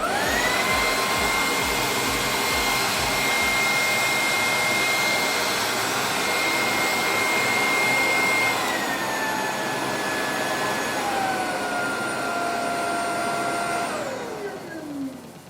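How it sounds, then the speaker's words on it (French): A Bissell Icon 21V cordless stick vacuum whines at a high steady pitch, shifts down partway through, then spins down and stops near the end. "Donc je mets en marche l'aspirateur."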